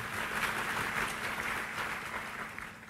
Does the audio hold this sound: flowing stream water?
no